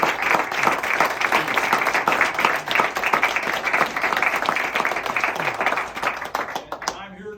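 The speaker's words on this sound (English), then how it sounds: "I just want to give them a round of applause too." Audience at a retirement ceremony applauds veterans, a dense, sustained roomful of clapping that carries steadily for several seconds before tapering off near the end.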